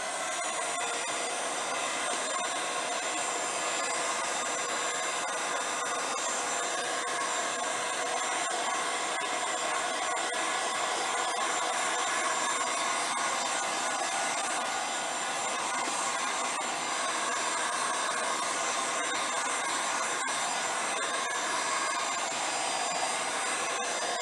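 Hot air blower heating a resin sculpture bowl, a steady loud whining whoosh of airflow that runs without a break and barely changes, with no voices.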